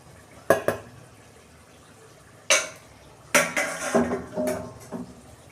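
A kadai set down on the stove, with sharp metallic clanks of the pan and utensils in a few distinct bursts separated by quiet pauses, close by.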